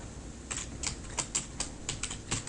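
Close, clear keystrokes on a computer keyboard while code is typed, about a dozen quick clicks in an uneven rhythm over a quiet background.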